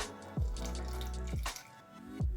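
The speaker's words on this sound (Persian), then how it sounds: "این آبو بهش اضافه میکنیم" Water pours into a bowl of flour seasoned with salt, pepper and turmeric, a close, continuous trickling stream with gurgling, with a few short splashy surges that rise in pitch as the bowl fills.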